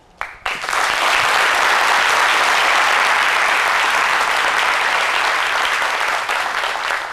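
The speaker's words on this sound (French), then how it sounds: "C'est avec des applaudissements que nous saluons cette belle carrière" Loud, dense applause from a French live television studio audience starts abruptly and stays steady, a thick roar of many clapping hands filling several seconds with no talk over it.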